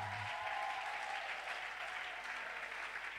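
Steady audience applause at a prayer gathering, a dense and even clapping that holds for the whole stretch at moderate distance.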